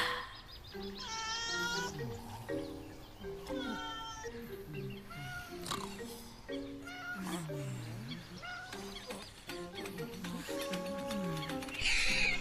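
A cat meows several times over a dense bed of music, with voices speaking around the cries in a Tamil-dubbed comedy film.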